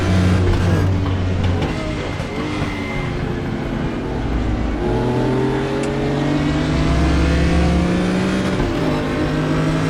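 A BMW M1 Procar in the RaceRoom racing game accelerates around Interlagos, its engine note climbing through repeated rising sweeps with gear changes, loud and close with other race cars audible around it.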